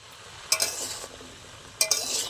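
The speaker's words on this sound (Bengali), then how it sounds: "সব একসাথে ভালো করে ভেজে নেব।" Mixed vegetables with cabbage fry in a hot pan, a steady sizzle punctuated by two clear bursts of spatula stirring and scraping, close and fairly loud with no talking.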